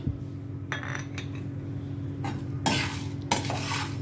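Dried red chilies, black pepper and salt dry-roast in a pan, with bursts of scraping and stirring against the metal over a constant low hum, several sharp strokes spaced a second or so apart.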